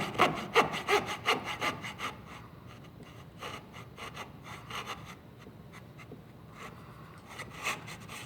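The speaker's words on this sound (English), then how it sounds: "I'm cutting through about twice the amount of material that I would be if I was doing baseboard" A hand saw cuts through wooden crown molding in quick rhythmic rasping strokes that are loud at first and then slow into softer, steadier pulls.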